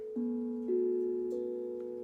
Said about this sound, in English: Just as a singing bowl keeps resonating, a meditation bell keeps ringing.